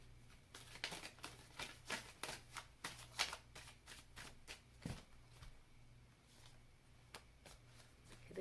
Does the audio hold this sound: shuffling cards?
yes